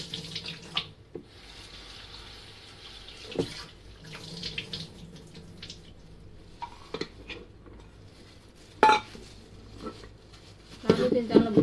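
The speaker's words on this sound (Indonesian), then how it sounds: "Kita cuci udang keringnya." Running tap water splashes steadily in a sink while dried shrimp are rinsed by hand, with occasional clinks and louder gushes near the end.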